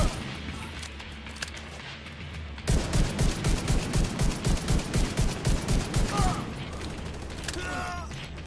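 A mounted gun firing in the video game The Division 2, a heavy, regular thudding run of shots after a few seconds of background battle noise, steady and close, with faint voices in the mix.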